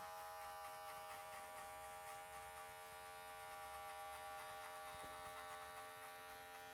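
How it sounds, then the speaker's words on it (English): An electric hair clipper hums steadily close by during a military haircut, a constant buzzing drone with no pauses and no voices. "Keeping that clipper nice and flat to my client."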